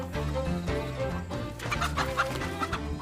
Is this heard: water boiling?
no